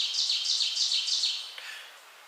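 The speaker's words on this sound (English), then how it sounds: "Oven birds just letting us know what is going on." Several ovenbirds call from the forest along the Appalachian Trail, their bright repeated chirping phrases coming in quick succession, moderately close and clear, before fading slightly toward the end.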